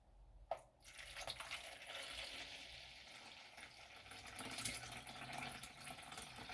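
Vinegar pours steadily into a bottle while being decanted, giving a faint, continuous trickling and splashing with a small clink near the start.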